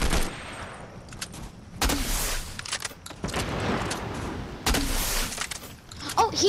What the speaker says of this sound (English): Let's shoot him then.